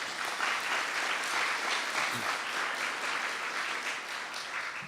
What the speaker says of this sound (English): So let's give Altria a big round of applause.